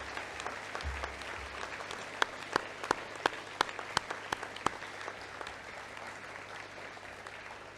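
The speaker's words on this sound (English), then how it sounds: "I think that is worth a round of applause." Applause at a 2020 HSC high achievers school assembly, a hall full of steady clapping for a top student, with a few sharper, louder claps standing out near the middle of the round.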